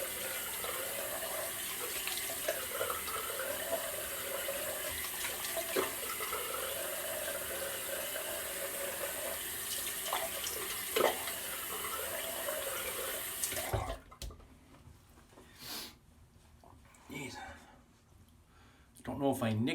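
A tap runs steadily for rinsing after a wet shave with sandalwood shaving cream. The water flows close and continuous, cuts off abruptly, and is followed by a few scattered splashes and drips.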